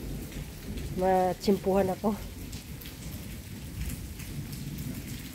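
Steady rain hisses under a low thunder rumble while a voice speaks briefly near the start.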